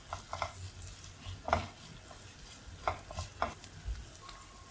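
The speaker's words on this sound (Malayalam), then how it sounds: "അതും കൂടെ ചേർത്ത് നന്നായിട്ടൊന്ന് ഇളക്കി ഇഞ്ചിയുടെയും വെളുത്തുള്ളിയുടെയും പച്ചമണം മാറുന്നവരെ ഒന്ന് ഇളക്കി യോജിപ്പിക്കാം" Ginger-garlic paste is stirred in a cooking pan for a cauliflower dish, with a faint steady sizzle under scattered scraping strokes of a spoon against the pan, close and quiet.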